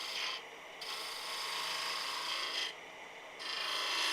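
A blunt spindle gouge scrapes against wood spinning on a lathe, making a steady raspy cutting hiss that eases off and returns in a few passes and stays fairly quiet throughout.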